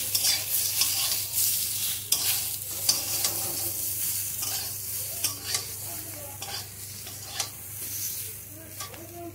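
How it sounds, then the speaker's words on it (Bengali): Flat beans in mustard paste with chilli powder and salt being stirred in a pan, a soft sizzle under repeated scraping and clacking strokes of a spatula, close by with no voices. "এবার এটাকে আমি নেড়ে নেব।"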